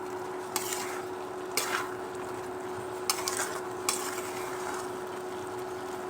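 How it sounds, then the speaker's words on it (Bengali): Broken rice (khude bhat) being stirred in a cooking pot, with soft scraping strokes and a few sharper clinks of the spoon against the pot over a steady low sizzle and hum. "আমরা এখন একটু খুদের ভাতটা দেখি কি হয়েছে, লাড়াচাড়া দিয়ে দেই।"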